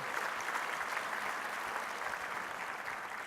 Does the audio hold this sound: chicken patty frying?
no